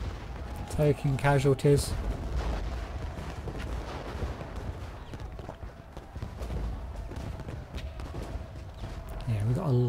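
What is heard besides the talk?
artillery fire from video game Ultimate General Gettysburg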